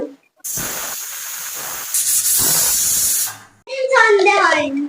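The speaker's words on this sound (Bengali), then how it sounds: "তিনটে সিটি আর না হলে একটু আধা ঘন্টা পরে যদি খোলো তাহলে দুটো সিটি দিনে আমাদের এই প্রেশার কুকারে হয়ে যায়" A pressure cooker's whistle releases steam in a loud, sustained hiss that lasts about three seconds while chicken cooks, then stops abruptly before a voice begins talking.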